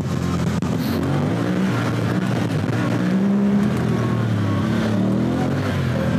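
A Honda Talon 1000X side-by-side drives through Zion Canyon wilderness in Utah, its engine droning loud and close with a shifting pitch as the transmission steps down through gears, with no talk.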